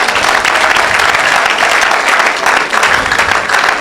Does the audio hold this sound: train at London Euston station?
no